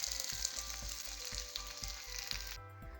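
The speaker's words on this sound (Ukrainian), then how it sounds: "Все смажене на вулиці, на свіжому повітрі, на вогнищі і на пательні." Potatoes fry in a pan over an outdoor campfire, giving a steady close sizzle and crackle with soft low thumps beneath, and the sizzle drops away near the end.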